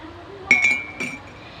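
Glass clinking against glass or a spoon: two quick bright taps followed by a third ringing chime, close and clear in a quiet room.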